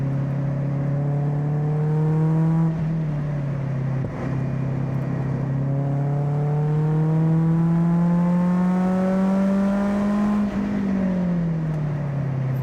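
Mazda NC Miata four-cylinder engine on a small race track, droning loud and close as revs climb steadily through the gears, with short dips at each shift and no talk over it.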